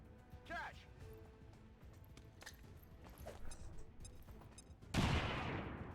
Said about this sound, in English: I'm going to drop a nade.